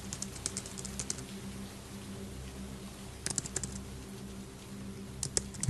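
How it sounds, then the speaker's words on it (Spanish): A computer keyboard at 3 a.m. is tapped in scattered single keystrokes and brief clusters, faint and close against a quiet low hum. "escuché el teclado de mi computadora, teclas presionándose una por una"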